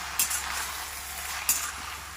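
Noodles tossed with Ching's masala in a pan, a steady sizzling hiss throughout, with two brief sharp clinks of spoons scraping the pan near the start and middle.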